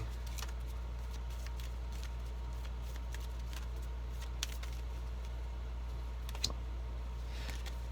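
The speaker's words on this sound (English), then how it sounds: "I'm going to shuffle one more time" Soft, rapid shuffling of tarot cards with scattered light clicks and riffles over a steady low hum.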